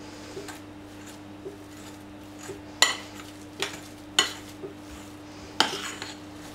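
A spoon mixes mustard and olive oil into mashed potato in a bowl, giving close, irregular clinks and scrapes against the dish. A faint steady hum sits underneath, and no one speaks.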